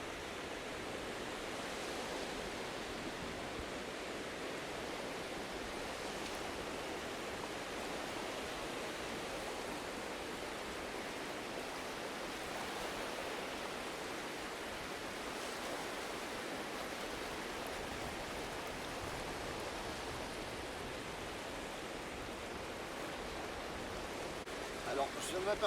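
Waves of a fast-rising tide wash in along the shore of Île de Ré on France's Atlantic coast, a steady broadband roar of surf that holds close and even from start to finish with no voices.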